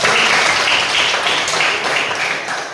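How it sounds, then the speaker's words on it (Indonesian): A classroom audience of teachers in training applauds a presenting group: dense, loud clapping from many hands, sustained and fairly even throughout, with no talk over it. "tepuk tangan untuk dulu kelompok 1"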